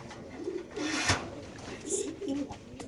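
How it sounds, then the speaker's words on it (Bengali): Racer pigeons at a farm coo in soft repeated low calls nearby, with a brief rustle or flutter partway through and some faint background voices. "দেখেন মাশাল্লাহ খুব সুন্দর এই কবুতরটা"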